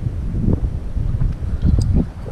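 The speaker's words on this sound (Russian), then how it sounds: "Блин, ох и ветер." Gusty wind buffets the microphone on a lakeshore while fishing for pike and perch, with a steady low rumble that rises and falls in loud surges.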